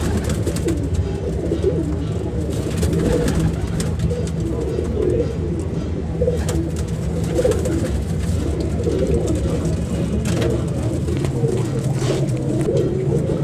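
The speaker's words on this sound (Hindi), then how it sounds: "मुख्तलिफ कबूतर अवेलेबल है यहाँ पे।" Many pigeons coo together at a pigeon market in Lahore, a dense, continuous chorus of low throaty calls close by, with people talking in the background.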